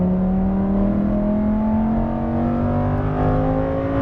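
A Lamborghini Huracan Performante engine pulls hard on a race track, its loud, steady tone rising smoothly as the car accelerates out of a corner, with no voices over it.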